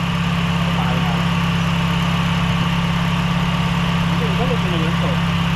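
A first-generation Toyota Vios engine idles with a fault in its low idle after a throttle body replacement, a loud, steady drone close by, with people talking faintly over it.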